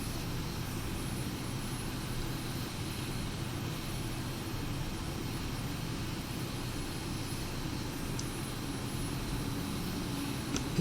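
A MiG jet roars steadily in a flight simulator, a constant dense engine rumble with broad hiss, loud and unbroken throughout with no voices.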